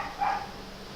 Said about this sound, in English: That thing is barking all the time, day and night.